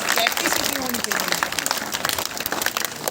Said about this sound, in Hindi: यहां भी ताली बजाओ